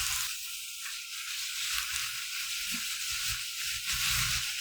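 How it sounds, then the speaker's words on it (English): Thinly sliced pork belly stir-frying in a pan for a Korean hot-pot bulgogi dish: a steady, moderately loud sizzling hiss with faint scraping of stirring underneath, and no voices. "First you stir fry."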